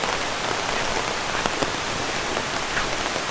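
Steady rain falls at Taman Bougainville on Gunung Puntang in rainy season, a dense, even hiss of drops on surfaces with a few louder close splatters and no talking.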